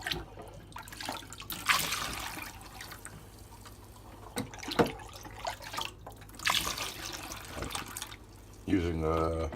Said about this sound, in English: Filling my jugs with sanitizer.